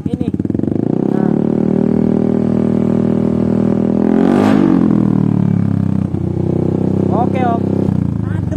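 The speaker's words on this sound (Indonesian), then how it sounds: "Coba agak digeber dikit" A Yamaha Aerox scooter fitted with a modified K Race exhaust is revved hard, a loud close engine drone climbing to a sharp peak midway, then settling to idle and blipping again near the end.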